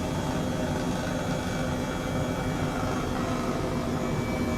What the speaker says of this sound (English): In our Airbus H135 helicopter.